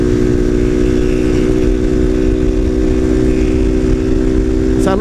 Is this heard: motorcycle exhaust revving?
yes